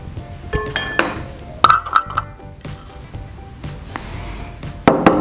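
Peanut sauce for Vietnamese spring rolls mixed in a dish with a spoon, producing a few sharp clinks and soft scraping strokes at close range, with quiet pauses between.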